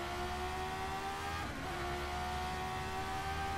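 In rFactor 2, a McLaren F1 car with a Ford Cosworth engine holds a steady, high-pitched whining drone throughout, with a brief dip in the middle, and no talking.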